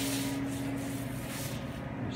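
A spray gun applies finish to cabinets in a continuous, close, loud hiss that holds steady throughout, with no talking.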